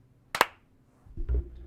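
Two hosts of a movie podcast give a single sharp clap together, a quick close double crack, followed by a low muffled thump from the room.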